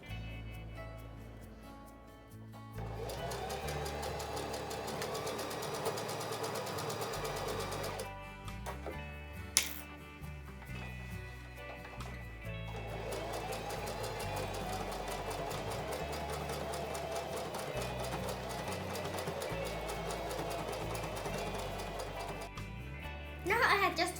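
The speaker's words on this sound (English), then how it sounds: "Now we are going to sew once all around, and then our handle should be tucked in" A sewing machine stitches all the way around a tote bag in a steady, continuous whir that runs through most of the stretch, with brief pauses and a sharp click near the middle.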